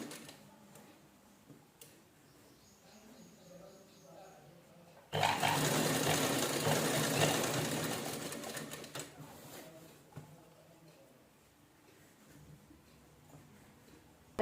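A sewing machine stitches blouse-fabric tassels onto a sari, running loudly for about four seconds mid-clip between quieter stretches of handling noise.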